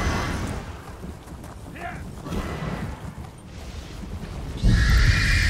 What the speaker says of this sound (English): I should get my horse, really.